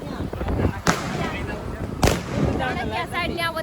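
Diwali fireworks burst outdoors on a street, two sharp loud cracks about a second apart amid crowd chatter and talking voices throughout.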